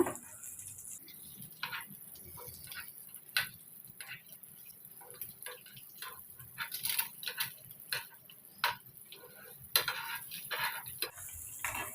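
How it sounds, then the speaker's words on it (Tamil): Pieces of boiled egg fry in a pan, with a quiet oily sizzle under repeated light scraping and tapping of a spatula against the pan, intermittent and close, and a voice speaking at times. "இப்போ இந்த சைடில் நம்ம ஃப்ரை பண்ணி எடுத்துக்கோங்க"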